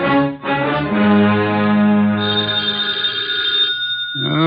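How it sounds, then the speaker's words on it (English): An old-style telephone bell rings loud and close in a continuous trilling burst of several seconds, stopping briefly near the start and again at the end, with no one talking. "Oh, dear, who moved that phone?"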